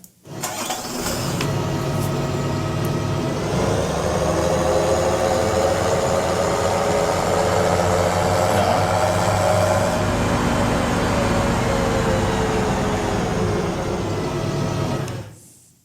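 A simulated tractor engine with a separate gearbox sound layer from Farming Simulator 17 starts and then runs steadily at a constant loud rumble for about fifteen seconds.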